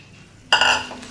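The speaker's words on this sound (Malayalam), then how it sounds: "ഇനി കുറച്ചൊന്ന് ഇതിലിട്ട് ഒന്ന് വഴറ്റിയെടുക്കണം. നെയ്യിലിട്ടൊന്ന് വഴറ്റിയെടുക്കണം." A metal spoon scrapes and clinks in a pan as flattened rice (aval) is stirred in ghee, making one short, close burst of scraping after near-silence.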